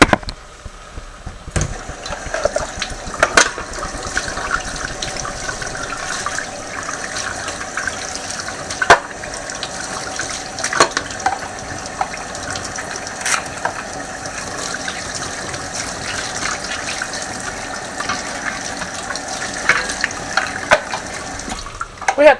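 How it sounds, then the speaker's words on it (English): Water runs from a kitchen tap as food is rinsed at the sink, a steady hiss and splash with occasional clinks and knocks, close by. "We'll go ahead and rinse this off over here."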